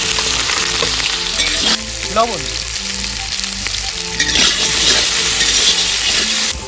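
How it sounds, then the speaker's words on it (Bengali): Potatoes frying in a pan of oil make a strong, continuous sizzle with stirring scrapes, while a voice briefly speaks over the cooking. "তো প্রথমে আলুটা দিয়ে নিচ্ছি। আলু ভাজার পরে বিভিন্ন যে সবজিগুলো আছে সেগুলো একসাথে ভেজে নেব।"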